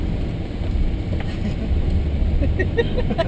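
A Volkswagen Jetta with a 170-horsepower engine hums along on the road, a low steady engine drone with road noise that swells slightly toward the end, under quiet cabin sounds.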